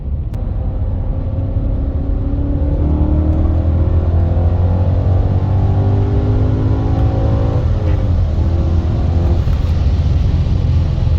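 A BMW E39 M5 accelerates hard just after a fuel filter replacement, a steady loud engine rumble with rising gear pulls heard from inside the car, alone without talk.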